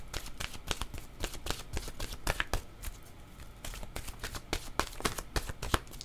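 Oracle cards are shuffled by hand close up, a series of quick papery riffles and slaps in an irregular rhythm, fairly quiet and without talk.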